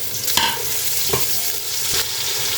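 Two medium sliced onions fry with whole spices in a pot for Afghani pulao, a loud, steady sizzle with occasional stirring scrapes.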